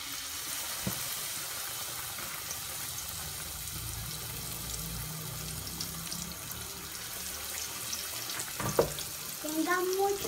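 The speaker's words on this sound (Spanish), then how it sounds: "Agregamos las rodajas de papa a la mezcla y las fritamos" Potato slices for Colombian papas aborrajadas fry in hot oil with a steady, soft, crackling sizzle throughout, and a few faint clinks near the end.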